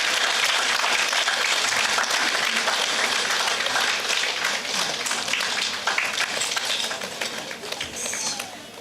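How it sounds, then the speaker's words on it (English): A big round of applause breaks out at a company success meet with a cake-cutting celebration, steady dense clapping from a crowd lasting several seconds, slowly tapering off. "A big round of applause again"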